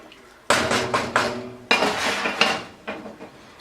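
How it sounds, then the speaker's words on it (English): A metal spoon clanks and scrapes against a pot while stirring pasta in water, giving sharp repeated clinks in uneven bursts, close and fairly loud, with no voices. "Let me get a spoon. Stir it around."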